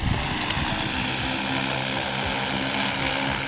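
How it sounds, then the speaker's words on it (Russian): Agricultural drone spraying fertilizer over fields at a farm field-day event in Buryatia gives off a loud, steady propeller whine and drone that holds evenly throughout without other sounds. "Например, это агродрон. Его в Бурятии все чаще используют для орошения угодий."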